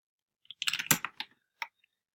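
A short burst of clicky keyboard typing, several quick keystrokes clustered together, then a pause and one or two final taps, close and clear.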